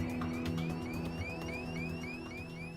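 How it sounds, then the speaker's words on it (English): An aircraft cockpit cabin altitude warning horn sounds in a steady pulsing pattern, each beep sweeping upward, over a constant low engine hum. "That's the cabin altitude warning."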